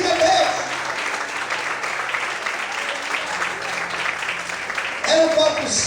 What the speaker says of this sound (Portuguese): Feche os olhos e aplaude o Senhor e glorifica a Deus.